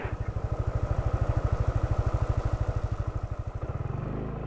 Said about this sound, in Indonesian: Saya dengar suara mesinnya gimana sih?